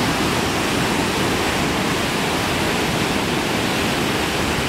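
The Kern River rushes in a steady, loud, broadband roar of fast-flowing water that holds constant throughout with no voices over it.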